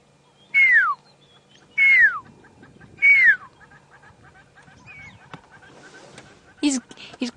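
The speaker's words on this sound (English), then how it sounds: "He's calling back to me. I love pearl-spotted owlets." A pearl-spotted owlet answers on a sunset safari drive with three loud, clear whistles that drop in pitch, evenly spaced. Quieter sounds trail after, then a short sharp noise near the end.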